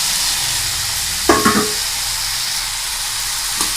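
Ridge gourd sautés in a pan with a constant close sizzle and hiss, and a brief spatula clatter stirs it partway through.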